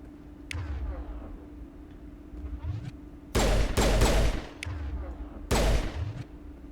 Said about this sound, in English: Immediately hear a bunch of snipers.